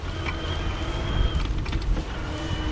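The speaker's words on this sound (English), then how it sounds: "I'm hearing the motor a bit. Kind of got that faint whine" The electric hub motor of an OHM Cruise e-bike whines faintly and steadily as the bike climbs a hill, under a constant rush of wind and road noise, with no talking.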